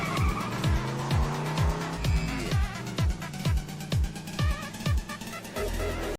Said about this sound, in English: He floored the accelerator and sped off